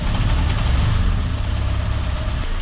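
A Peugeot 206 with a three-cylinder KKK engine idles roughly and unevenly, with raw fuel passing into the exhaust; a loud, steady low rumble runs throughout with no talk over it.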